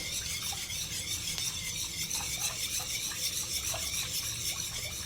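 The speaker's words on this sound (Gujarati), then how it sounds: "હવે અહીંયા તમે આ રીતે વિસ્કર ફેરવશો તો પણ તમને સરસ મજા આવશે અને ગાંઠા પણ નહીં પડે" A whisk stirs khandvi batter in a pan with a steady, rapid rhythmic scraping and swishing, close and continuous, with no talking.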